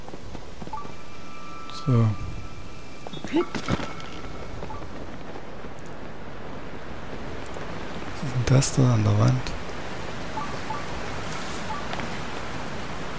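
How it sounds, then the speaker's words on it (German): Steady rushing water from a waterfall inside a cave in the video game Zelda: Tears of the Kingdom, a constant broad wash of noise with a voice talking over it in short bursts. "So, jetzt bin ich hinterm Wasserfall in der Höhle."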